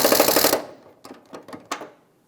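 Fuel tank strap bolts on a 2012-2017 Toyota Camry are snugged up with a tool, opening with a short buzzing ratchet-like whir followed by several brief, close clicks and taps.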